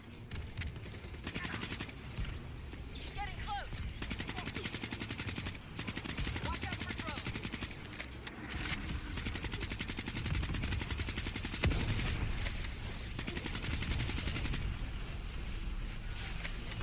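Sustained automatic gunfire from Call of Duty: Black Ops III fills the scene in long, dense bursts with short gaps, loud and close, mixed with scattered game effects.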